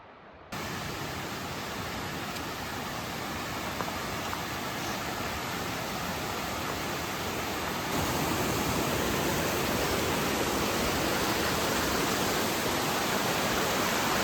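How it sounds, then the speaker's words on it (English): A waterfall on a winter hiking trail roars as a continuous broadband rush, loud and close, growing slightly louder partway through, with no voices. "Made to the waterfall."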